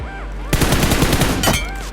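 A sudden, loud burst of rapid automatic gunfire in BGMI lasting about a second, with a tonal game-like hum before and after.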